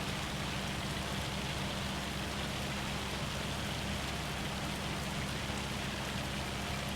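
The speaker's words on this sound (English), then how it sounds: "now it's hailing or something" Hail keeps pounding down in Farming Simulator 25 in Huron County, Michigan, a loud, unbroken wash of pattering impacts over a faint low rumble, without speech.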